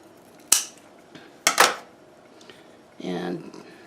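A coleus plant stem is cut for propagation, with two or three crisp, close snips in quick succession, followed by a brief soft rustle of handling.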